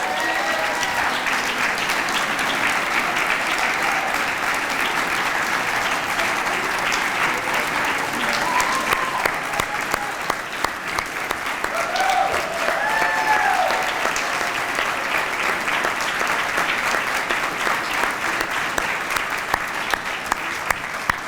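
A large audience at a corporate annual meeting claps in a long, steady round of applause for long-serving staff, dense and even throughout with a few faint cheers rising through the middle.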